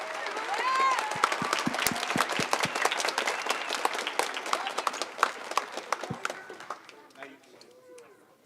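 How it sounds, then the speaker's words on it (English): Audience applause at a 6th grade school band event, with sharp individual claps and cheering from a crowd, loud and lively, thinning out toward the end as a few voices remain. "So a big round of applause for Mr. Johnson."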